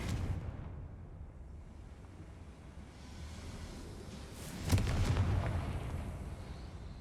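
A Confringo fire spell explodes in the video game Hogwarts Legacy, a sudden loud blast near the midpoint that swells out of a low background rumble and rings on briefly afterward.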